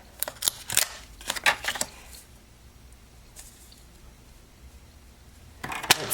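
Scissors cutting card stock for a fold card, a few sharp close snips in quick clusters, then a quiet stretch before more snipping at the end.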